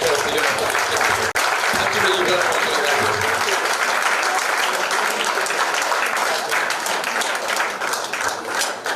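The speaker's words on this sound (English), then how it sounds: "Can we give a round of applause to the managing director of the Yonna?" Sustained audience applause at a staff retreat and award ceremony honoring a managing director, dense and steady clapping from a large crowd throughout, with a brief sharp knock near the start.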